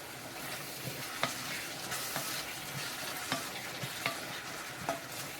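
Shrimp sautéing in a pan, a soft continuous sizzle punctuated by small scraping stirs at irregular intervals, quiet and close with no talking.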